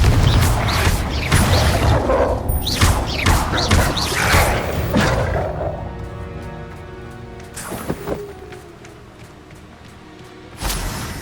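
In the video game Hogwarts Legacy, a Confringo spell fires and blasts, making loud booming, rumbling impacts with crackling debris, then a quieter stretch and a final thud.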